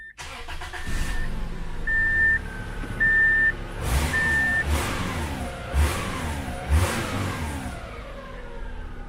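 An Infiniti M45 with a modified exhaust cranks and starts after a series of warning chimes, then settles into a deep idle with a few throaty revs, loud and close.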